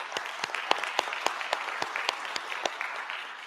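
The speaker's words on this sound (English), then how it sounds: "please give it a round of applause for the Georgia Cyber Center" Sparse applause from a small audience at a cybersecurity pre-conference event, a handful of distinct, fairly loud claps standing out against a softer steady patter for a few seconds.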